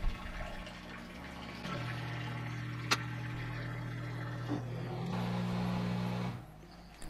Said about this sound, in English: this will activate the drain pump, and at this point all the water will be pumped out of the machine